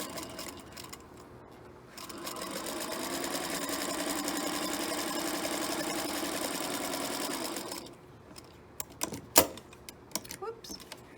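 A sewing machine stitches a quilt block seam from an old stitch line to the end of the block, a close, steady rapid whir for several seconds, then stops, followed by small clicks and handling sounds.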